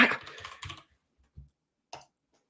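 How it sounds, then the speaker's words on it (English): A brief burst of quick keyboard typing, a run of close clicks, then a couple of isolated keystrokes after a pause. "I'm just typing this in"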